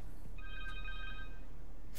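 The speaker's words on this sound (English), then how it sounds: "Connor's cell phone." A cell phone ringing inside the Spider-Man 2 video game, a short electronic ring tone of steady, evenly pulsed notes lasting about a second, heard alone over a low background hum.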